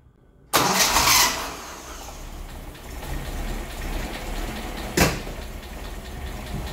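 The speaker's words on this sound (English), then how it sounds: "put the little cap back and get the car started." A Nissan 1400 bakkie engine cranks and catches with a loud burst, then settles into a steady, close idle with a brief louder rev about four seconds later; no voices.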